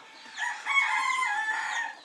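A rooster crows once, a long drawn-out call that holds steady for about a second and a half, close by with no voices.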